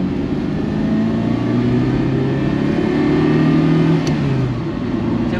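An analogue Ferrari engine pulls steadily from low revs through a corner, a loud, close, continuous mid-pitched drone that climbs and sags slightly in pitch with no talk over it.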